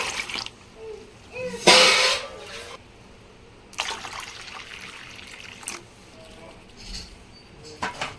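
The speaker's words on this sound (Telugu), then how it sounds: "ఇంకా పానీ కోసం సరిపోయేంత వాటర్ అయితే వేసుకుంటున్నాం ఇప్పుడు." Water trickles and splashes in short bursts into a container while making pani puri water, with quiet gaps between pours.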